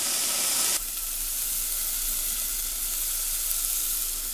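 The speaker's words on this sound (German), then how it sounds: "Es dampft, es dampft." Steam and hot fat sizzling in a cooking pot make a loud, steady hiss that drops suddenly to a softer, continuous sizzle and keeps going with no talk.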